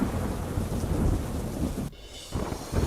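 Heavy monsoon rain with strong wind pours steadily in Gujarat with deep rumbling thunder, the downpour briefly easing before surging back loud and close.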